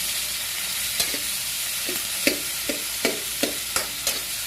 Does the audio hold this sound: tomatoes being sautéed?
yes